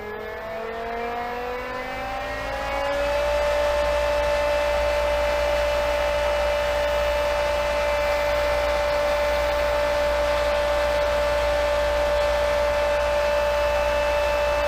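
Pool filter pump motor starting up and ramping to full speed at 3,450 RPM, its pitch climbing for about three seconds before settling into a loud, steady, even hum that holds without any talk.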